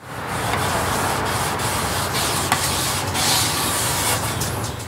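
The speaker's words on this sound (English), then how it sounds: "put a little bit on a rag, and wipe in an area that you've been sanding" Steady, close-up rubbing and swishing of an oiled rag wiped across sanded wood on a sun-damaged rocking chair, continuous with slight variations in stroke.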